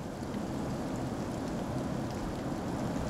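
Heavy rain pours steadily and evenly in a haunted-house video game, a dense, constant hiss with a low rumble beneath and no voices.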